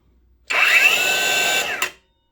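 An 18V Makita-compatible cordless saw spins up abruptly, whines loudly and steadily for over a second, then its blade brake cuts it off quickly with a short clunk, leaving silence; no voices.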